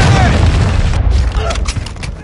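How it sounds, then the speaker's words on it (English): A loud, rumbling cruise missile explosion in a video game battle roars steadily throughout, a heavy booming wash with crackling bursts, while a voice talks over it. "Friendly cruise missile deployed."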